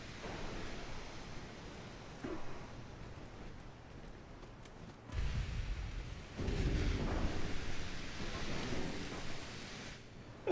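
Deep, low rumbling blasts from a torpedo strike on a warship in Ultimate Admiral Dreadnoughts, a muffled booming roar swelling and lingering over a steady sea-like wash of noise.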